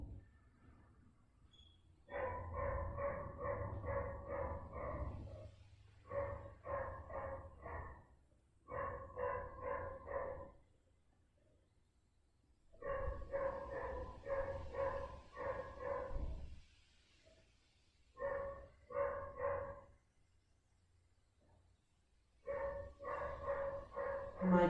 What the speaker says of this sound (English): My dog is chasing a squirrel up a tree at the moment. That is what the commotion is all about.